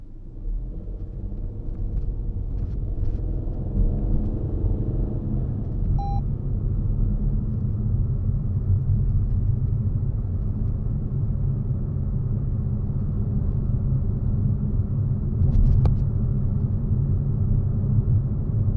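Toyota Aygo X driving on a village road, steady low engine and tyre rumble heard from inside the cabin throughout, with a faint brief chime and a short click partway through.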